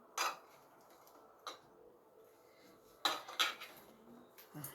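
Rice served onto a plate at home, with a few sharp clinks and scrapes of a spoon against the dish in separate bursts over a quiet background.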